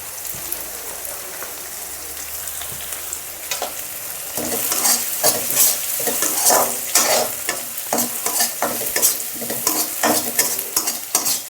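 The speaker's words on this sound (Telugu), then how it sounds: "ఆనియన్స్ వేగినాయండి." Onions and curry leaves fry in a pan for an Andhra-style amaranth and moong dal curry, a dense sizzle with scattered pops and stirring scrapes that grows louder midway, with no talking.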